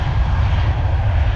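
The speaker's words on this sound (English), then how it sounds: "You can hear the engine roaring." At Orly airport a Transavia Boeing 737-8K2 jet engine roars loudly and steadily as the airliner powers up for takeoff, a dense continuous rumble with no voices.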